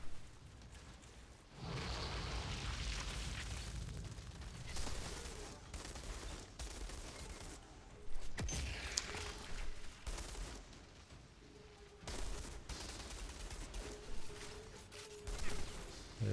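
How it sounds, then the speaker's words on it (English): In the Outriders shooter, played on Xbox Series X, an enemy blows apart amid sustained rapid gunfire, with loud dense bursts and sharp blasts layered over a constant roar of combat. "Look how he explodes."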